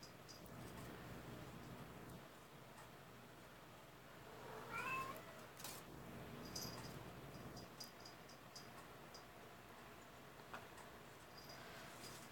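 A pet cat gives a brief meow partway through, fairly faint under a steady hiss of room noise, with scattered small ticks and bumps around it.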